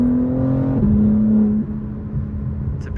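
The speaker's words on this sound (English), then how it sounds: "put this new downpipe on the car, it's so nice, the sound of it" A BMW M4 Competition with new downpipes revs and its exhaust note drops through a downshift, a close, loud tonal drone that steps down in pitch, then settles into a lower rumble.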